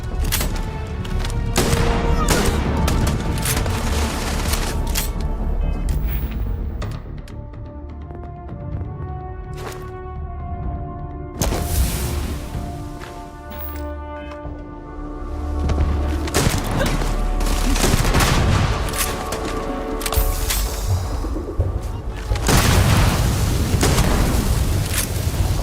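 A chaotic firefight in the video game Starfield: dense volleys of gunshots crackle continuously, punctuated by heavy booms and thuds. The shooting is loud and close throughout, with brief lulls between bursts.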